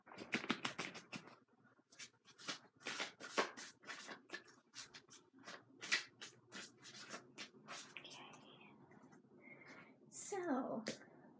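Tarot cards being shuffled by hand, a quick run of crisp riffling and sliding bursts up close, quiet and uneven in rhythm.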